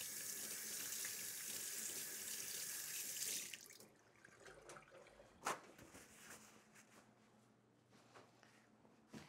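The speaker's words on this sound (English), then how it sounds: "Let me wash my hands." Hands are washed under a running kitchen tap, a steady close rush of water that cuts off after about three seconds, followed by faint clatter and quiet room noise.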